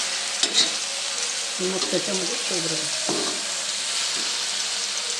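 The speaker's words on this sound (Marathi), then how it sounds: "ती भाजी आहे ती आपण आता परतवून घेतो" Shegal (drumstick leaf) vegetable curry is sautéed in a pan after simmering covered, giving a continuous close sizzle with scraping stirs of a spatula over it.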